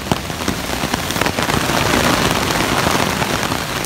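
Heavy rain drums on a camping tent tarp, a dense, continuous patter close by that swells slightly in intensity, loud and alone with no one talking.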